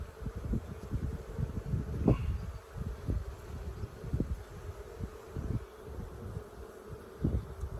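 Honeybees buzz around a hive during an inspection, a faint, continuous drone mixed with repeated soft knocks and handling clatter from frames close by, with no talk.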